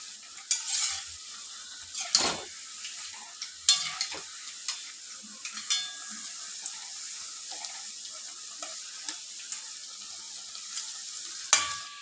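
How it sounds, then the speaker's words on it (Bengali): Fuchka nimki crisps fry in hot oil with a continuous sizzle, broken by scattered clinks and scrapes of a utensil being stirred through the pan. "বেশ কড়া কড়া করে ভাজবেন"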